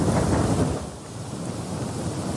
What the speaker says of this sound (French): Et la pluie ne s'arrête pas de tomber.